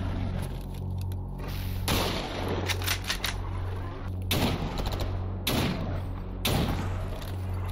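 Shots ring out in STALKER Anomaly during the Escape From Pripyat mod, a series of loud thumping reports spaced a second or two apart over a steady low hum.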